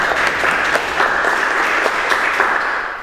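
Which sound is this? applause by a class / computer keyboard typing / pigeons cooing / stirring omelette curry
applause by a class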